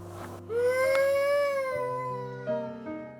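Child wailing and crying in a long, rising, tonal howl, loud and close, sustained for a couple of seconds before breaking into shorter sobs with no speech.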